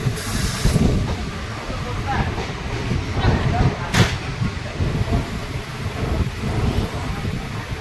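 The Mayurakshi Express pulls into Basukinath halt on a hilly Jharkhand line, a dense steady rumble of wheels and rushing wind filling the whole stretch, with a brief sharp clatter midway and a voice faintly under the noise.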